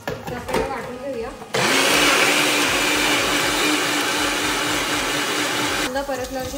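A mixer grinder grinds masala for a Marathi-style crab curry, a loud steady whir that starts abruptly after a brief spoken moment and runs for several seconds before cutting off, with faint talk at the start and end.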